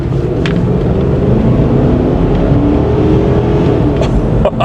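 A 1998 Ford Explorer drives with a steady, loud engine drone and road rumble from inside the cabin, its transmission shifting smoothly without obvious breaks.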